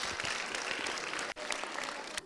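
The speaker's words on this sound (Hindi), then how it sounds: "और इन्होंने बिल्कुल सही जवाब दिया और जोर से तालियां इनके लिए एक बार।" An audience at a Christian religious programme applauds loudly for a child's correct answer. The dense, steady clapping breaks off briefly midway, then resumes just as full.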